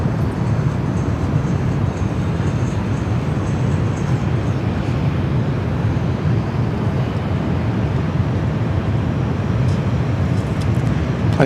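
A Vietnam Airlines Boeing 777-300 taxiing at Sydney Airport gives off a steady, moderately distant jet rumble and whine that holds constant throughout, with no voices.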